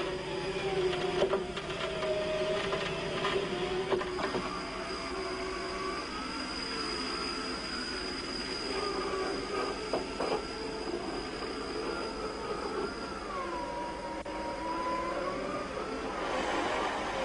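An off-road vehicle's electric winch winds in its cable with a steady mechanical whine and drone, pitch rising and falling as the load shifts, heard up close and alone for many seconds.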